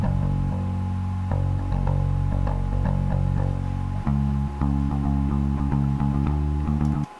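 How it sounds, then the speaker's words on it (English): Clean bass guitar played through just a compressor, a steady run of round, sustained low notes and a shifting riff, alone and fairly loud with no talking. "So that's one bass, that's the clean bass channel"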